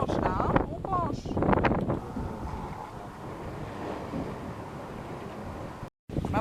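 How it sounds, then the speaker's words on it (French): Strong wind of about 19 knots roars over a heeling sailboat on the way to Saint-Malo, a loud buffeting rush against the microphone. Voices talk over it at the start, and the wind keeps on after they stop. "On a du 19 nœuds de vent."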